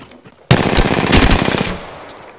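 A loud burst of rapid automatic gunfire in Apex Legends starts abruptly, rattles for about a second, then tails off into a fading echo, with no voices.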